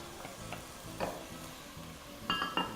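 Red onions and green peppers frying with browned beef in a pan, a steady sizzle under occasional scraping stirs and a few clinks of a utensil against the pan near the end.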